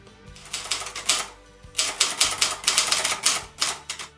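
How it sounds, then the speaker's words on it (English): Typewriter keys clack in rapid bursts, with a short pause between runs of typing, loud and close with no one speaking. "the clacking sound of dozens of typewriters created a distinctive soundtrack, where every clack was a character and every ding was a new line"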